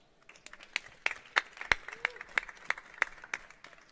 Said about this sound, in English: Round of applause for Ram.